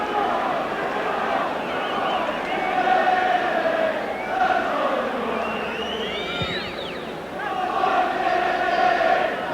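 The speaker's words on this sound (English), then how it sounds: "Now we're getting rather ironic chants from the Hibs crowd, featuring David Neary" Hibernian football fans chanting in a stadium crowd, a broad sustained roar of massed voices rising and falling, with brief whistles above the steady din.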